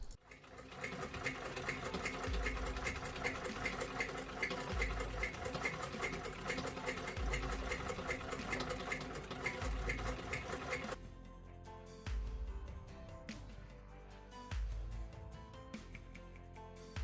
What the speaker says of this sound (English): I never need an excuse to use my treadle machine.